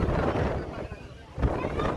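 Strong wind at Dhanushkodi buffeting the microphone in gusty, uneven rushes, with a sharp surge near the end and faint talk beneath.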